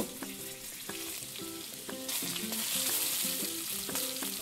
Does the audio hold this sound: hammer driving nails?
no